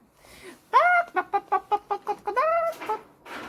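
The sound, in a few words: person imitating a chicken clucking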